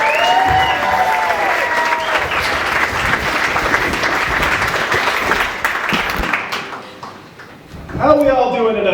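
An audience at a brewery show claps and cheers loudly and steadily, a dense crowd wash that fades near the end before a voice comes back in.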